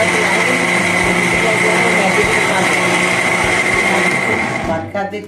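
A kitchen blender whirs steadily while blending pomegranate seeds for juice. The high, even motor drone stays loud and constant for about five seconds, then winds down and stops.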